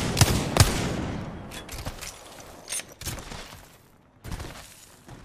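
Cannon fire in a competitive video game match rings out as a series of sharp, loud booming blasts at uneven intervals, each one trailing off into a rumbling decay, with hardly any talk over it.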